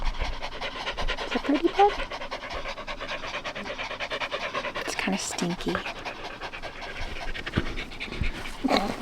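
Two dogs panting loudly and rapidly close by inside a van on a road trip, a steady fast rhythm of breaths running throughout while people talk over it.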